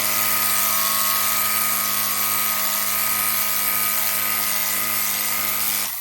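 A cordless power washer sprays down an old, dirty driveway, giving a loud, steady rushing hiss with a constant motor whine that runs unbroken for the whole stretch, with no talking.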